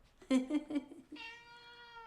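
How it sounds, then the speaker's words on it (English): Hungry cats meowing for food: three quick, close meows in a row, then a longer, drawn-out meow that trails off, heard nearby and fairly loud. "We're here with the cats. I think they want to be fed."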